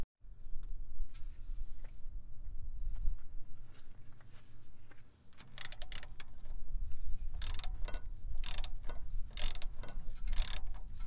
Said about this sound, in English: you have this here to hold it in place while you unbolt the bottom of the shock with the socket